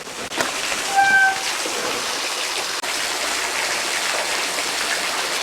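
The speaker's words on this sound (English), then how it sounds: "The waterfall." A waterfall beside a downhill mountain bike trail in Garigal National Park rushes in a steady, broad wash of water, close and continuous, with a couple of brief clicks and a short high tone early on.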